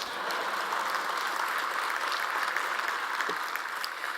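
Audience applause at the Law & Society honoree speeches in 2011, a steady wash of many hands clapping throughout, moderately loud and continuous with no voices over it.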